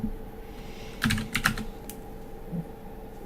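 A few quick bursts of computer keyboard typing while searching in the X-Crawl game, clustered in about half a second, with a faint keystroke after. The room is otherwise quiet and nobody speaks.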